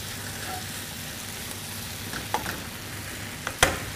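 Mixed vegetables stir-frying in garlic and black bean sauce give a steady, even sizzle in the pan, broken by a few brief scrapes and clacks of a utensil as they are mixed.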